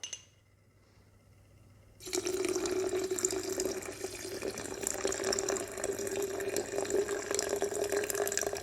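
Water poured onto mustard seeds in a container to dilute them, starting abruptly after two seconds of quiet and then flowing steadily and close with a bright, trickling splash.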